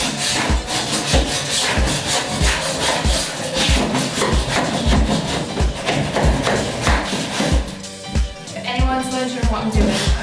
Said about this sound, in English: I'm just scraping off the easy fill and plaster and cork off the table.